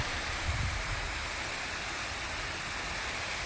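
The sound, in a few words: water pouring from submersible borewell motor into tank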